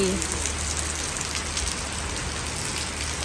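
Heavy rain pours steadily outside, a dense continuous hiss of drops on surfaces with no pauses, fairly close and loud.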